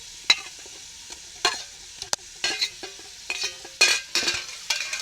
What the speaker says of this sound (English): Add my fresh pepper to the pot.